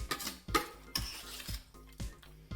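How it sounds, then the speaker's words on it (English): Macaroni salad being stirred together with its dressing in a bowl, giving repeated soft wet scrapes and clinks of a utensil in a steady stirring rhythm, close and fairly quiet. "Well mix the salad with the dressing."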